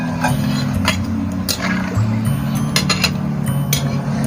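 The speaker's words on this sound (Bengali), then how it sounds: "মা এবার পরিমাণ মতো জল দিয়ে দিচ্ছে।" Water poured into a cooking pot while making a Bengali koi fish curry with seeded bananas, a steady close splashing flow with light clinks of utensils against the pot throughout.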